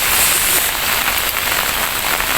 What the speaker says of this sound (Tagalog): Kahit umuulan.